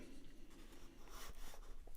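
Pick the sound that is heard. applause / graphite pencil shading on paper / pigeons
graphite pencil shading on paper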